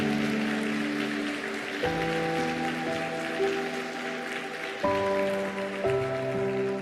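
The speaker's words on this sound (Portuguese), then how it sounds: "Pode aplaudir o Senhor?" A church congregation applauds during a worship service, a soft, rain-like patter of clapping under sustained organ or keyboard chords.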